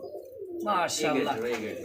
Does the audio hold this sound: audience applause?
no